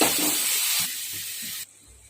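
Garlic-pepper kuzhambu with tamarind water bubbling in a pot gives a loud, steady steaming hiss that drops off abruptly partway through, leaving a faint simmer with no talking.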